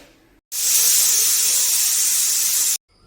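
A pressure cooker on the stove lets out one long, steady steam hiss while cooking a sprouts gravy. The hiss starts abruptly, holds for about two seconds and cuts off sharply.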